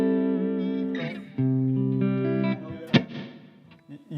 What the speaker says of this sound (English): a pre-delay setting on a reverb can be nice for playing big chords.